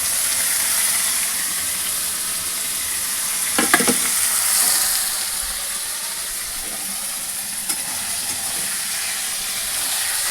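Vegetables sizzle continuously in hot oil during festival cooking, a loud, steady frying hiss with a few brief utensil scrapes and knocks.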